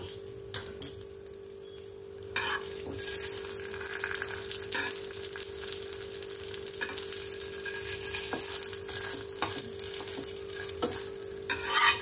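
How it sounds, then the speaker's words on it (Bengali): Patishapta pitha, a Bengali rolled crepe, frying in a pan after being brushed with ghee, a steady soft sizzle with occasional light ticks and clinks, close and quiet over a constant hum. "এর উপরে আমি একটু ঘি ব্রাশ করে দেব। দিয়ে একটু 1 মিনিটের মতন ভেজে নেব।"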